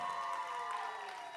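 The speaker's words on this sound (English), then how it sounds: "Ladies and gentlemen, we're going to cheer that" Audience cheering and applause at a book launch, a broad steady wash of crowd noise with scattered shouts, fairly distant and consistent throughout.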